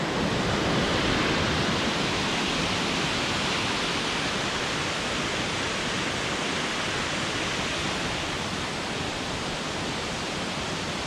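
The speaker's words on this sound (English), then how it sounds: "That's one heck of a waterfall." Coomera Falls, a large waterfall on a forest trail, roars in a steady, dense wash of noise that fills the whole stretch without pause, loud and close.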